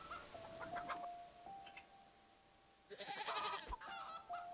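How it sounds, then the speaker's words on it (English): Goat being milked in the farming video game Garden Paws, with short game-sound tones and a bright chirpy burst partway through over quiet background music. "Yeah, there we go, milk goat."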